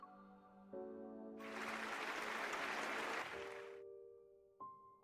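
Thunderous crowd applause swells as a stage curtain falls at the close of a royal masque performance in a game, a dense roar of clapping rising over sustained music and fading back into the score.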